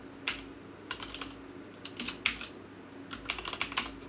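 Typing on a computer keyboard, quiet close-up key clicks in short bursts of several rapid strokes separated by brief pauses, with no talking.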